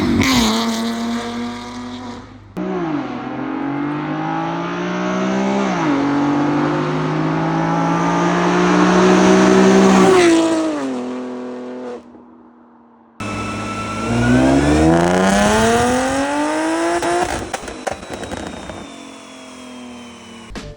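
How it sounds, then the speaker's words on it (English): A BMW N52 straight-six with a Y-pipe exhaust revs hard and loud in repeated climbing pulls, dropping back between runs, with a brief near-silent gap before one final rising rev. "the exhaust note won't be as clean, but you'll have the most optimized exhaust and the best power band"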